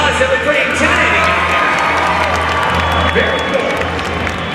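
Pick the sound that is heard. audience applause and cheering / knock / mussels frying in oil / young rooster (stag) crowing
audience applause and cheering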